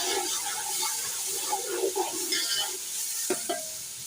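Soft sizzling of ground garlic and ginger paste in a hot pan for potato pulao, with light stirring scrapes and a couple of metallic clinks near the end.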